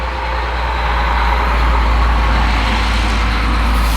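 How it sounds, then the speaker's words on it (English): A logging truck loaded with wood chips rumbles past outdoors, a steady loud low engine roar with broadband road noise that holds throughout and swells slightly midway. "I hear a logging truck."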